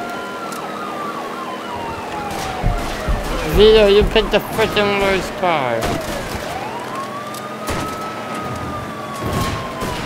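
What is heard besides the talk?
police car sirens, from video game Mafia 3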